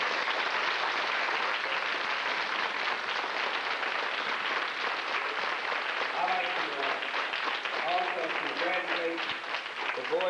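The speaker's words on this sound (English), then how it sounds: "Let's give him another round of applause." Steady applause from an elementary school audience fills the whole stretch, dense and continuous at a fairly even level, with voices calling out faintly beneath it toward the end.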